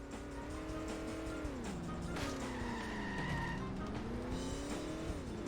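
Engine roar and tire squeal from a car in The Simpsons: Hit & Run video game, revving and pitching up and down as it skids and slides continuously around a barn, loud and steady throughout.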